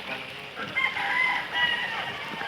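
On a catfish farm, a rooster crows loudly and close by in one sustained, strained call over a broad hiss of background noise.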